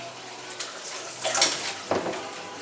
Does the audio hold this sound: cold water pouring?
yes